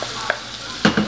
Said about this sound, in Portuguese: Deixa fritar bem a cebola, sai toda a aguinha assim